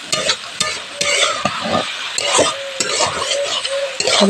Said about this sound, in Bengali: ভালো করে এটাকে আমি নেড়ে নিব, না হলে তলাতে লেগে যাবে আবার